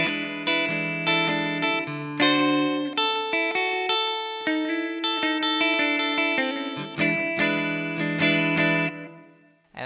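An effects-laden electric guitar plays the last four bars of a solo: a brisk run of picked notes and double-stops, close and steady, with no talking.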